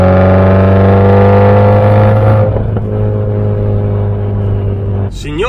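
A Subaru Impreza WRX STI S204, a limited special edition built for the Japanese market, revs with a loud, steady engine tone that drops off abruptly midway into a lower rumble, with a brief voice at the end.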